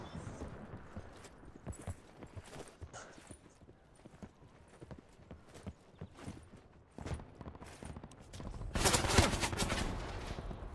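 Gunfire in Black Ops 4 Blackout comes as scattered, fairly distant sharp cracks and short bursts over the whole stretch, with a denser, louder volley near the end, no talk.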